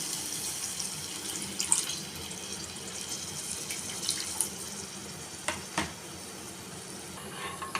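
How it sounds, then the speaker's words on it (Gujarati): Half a glass of water poured into a pan of cooked tomato curry for sev tamatar, a steady broadband splashing pour running several seconds at moderate loudness with a few small clinks, no talk. "હવે આપણે તેમાં અડધો ગ્લાસ જેવું પાણી નાખીશું"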